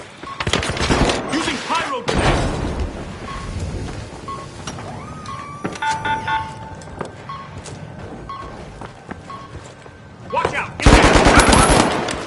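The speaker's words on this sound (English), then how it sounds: "Munitions, meet turret." Turret fire in The Finals, a competitive shooter game: loud rapid automatic bursts, sustained at the start and again in a dense closing burst, with quieter game effects and tones between them.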